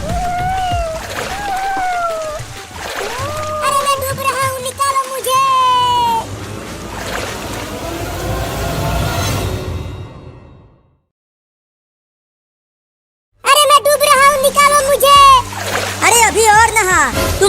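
Water from a bucket splashes repeatedly as a kitten is bathed, with a voice talking over much of it and a brief silence partway through.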